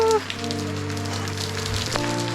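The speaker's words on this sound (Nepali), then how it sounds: "एकदम पानी परिरहेछ यहाँ चाहिँ पुरै भिजिरहेछ" Heavy rain patters steadily on a surface nearby in Bandipur bazaar, Nepal, with a low droning hum running underneath.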